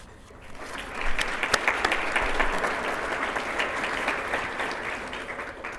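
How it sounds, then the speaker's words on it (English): Banquet audience at a teacher of the year ceremony breaking into a big round of applause, a dense, sustained clapping roar that builds quickly and holds steady. "So if we could go ahead and get a big round of applause for our first person to start things out"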